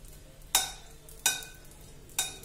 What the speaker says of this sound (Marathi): आपलं तूप गरम झालंय की नाही हे बघायसाठी मी एक डिंकाचा खडा टाकून बघते आधी